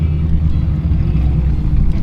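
Tuned show cars run at a car meet in Lillooet, B.C., giving a loud, continuous deep engine rumble with no break across the stretch.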